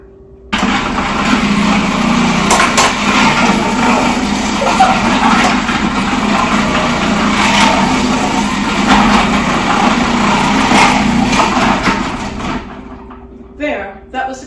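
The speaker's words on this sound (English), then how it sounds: "I'm going to run them through the food processor with the, what do you call it, shred blade" A food processor with a shred blade shreds carrots in a loud, steady motor whir with rattling and grinding for about twelve seconds, then cuts off abruptly, leaving a few faint clatters.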